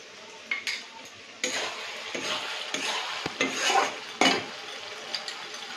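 Cornflour paste is mixed with a spoon for chilli cabbage, producing quiet, intermittent scraping and stirring bursts against the container.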